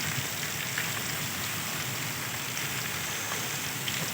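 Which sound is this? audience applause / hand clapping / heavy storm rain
heavy storm rain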